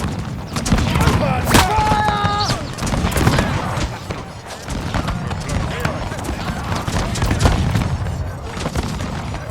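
Musket volleys crash out in a Total War FOTS Carlist Wars mod battle at Granada, 1833, with repeated booming bursts over a dense battlefield din, shouted voices and a bugle-like call near the start.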